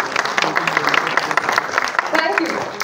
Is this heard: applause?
yes